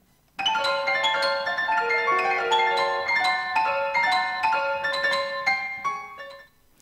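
Bright, rapid trilling and chirping notes flutter high on a keyboard instrument, a busy melody imitating skylark song, played solo and fading out.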